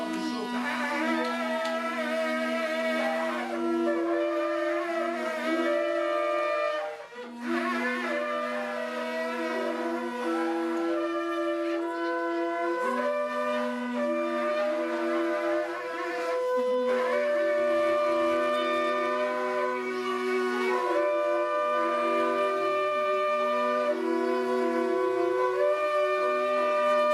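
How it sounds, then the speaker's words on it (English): A shofar ram's-horn trumpet blown at a prayer gathering, sounding long sustained brassy tones with a strong harmonic buzz, held almost continuously for about half a minute with only brief breaks between blasts. "That's the sound of the shofar."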